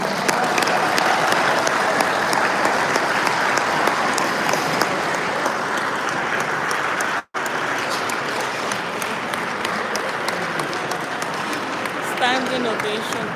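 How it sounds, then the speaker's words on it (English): Standing ovation from a crowd at a traditional rulers' council session in Akwa Ibom, Nigeria, loud continuous clapping with a brief cut partway, voices faintly audible beneath. "Standing ovation, people."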